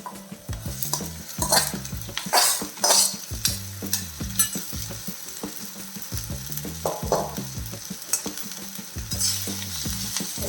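Broad beans stirred and fried in a pan, with a spoon scraping and clattering in repeated strokes over a constant sizzle, close and fairly quiet, no talking.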